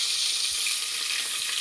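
Onions sizzle in hot oil in a pan as the base for chicken biryani. A steady, close frying hiss plays alone with no talk.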